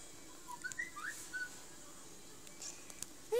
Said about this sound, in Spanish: ¡Alguien silbó!